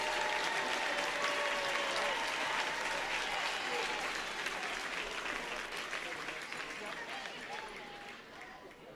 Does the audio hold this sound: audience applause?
yes